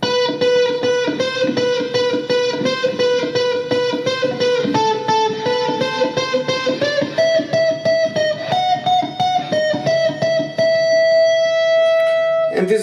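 Distorted electric guitar tapping a fast neoclassical etude melody, rapid repeating arpeggio notes high on the fretboard that shift position and end on a sustained note.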